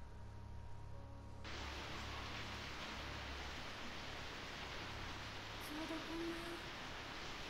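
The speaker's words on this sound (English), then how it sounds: "It was a rainy evening after school, just like this one." Rain falling on a rainy evening after school in the Corpse Party video game, a steady hiss of rainfall that begins abruptly and continues evenly at a moderate level.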